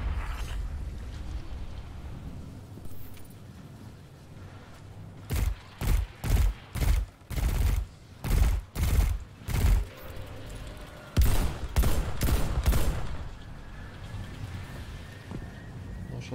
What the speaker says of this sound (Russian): А, учебные стрельбы.